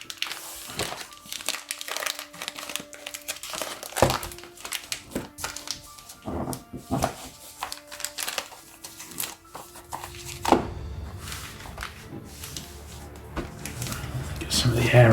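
Plastic bag crinkling as a vintage Penguin paperback is slid inside: soft, irregular rustles and crinkles, fairly close and quiet, with scattered taps and handling noise throughout.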